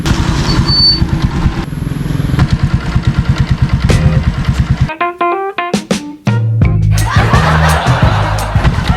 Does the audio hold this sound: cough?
no